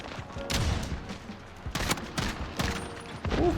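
Pistol gunfire in the Call of Duty Modern Warfare 2019 beta video game: several sharp shots in quick succession, loud and close, mixed with game noise and no talking.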